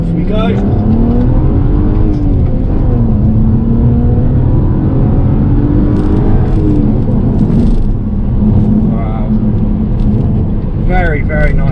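A Stage 1 BMW 335i accelerates hard in first gear on a twisty road, its engine note rising in pitch, loud and close from inside the cabin, with a voice heard over it near the end.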